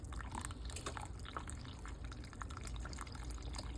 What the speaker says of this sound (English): I got some more heavy whipping cream, so I'm gonna pour some more in there